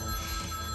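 A telephone rings steadily with an electronic bell tone, clear and fairly close, in a very short burst heard alone.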